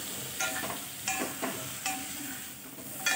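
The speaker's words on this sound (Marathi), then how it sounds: "छान मिक्स करून घेऊया" A spoon stirs chopped potatoes into a spiced stuffed capsicum filling in a pan, producing several short scraping strokes at an uneven pace over a soft low sizzle, close and fairly quiet.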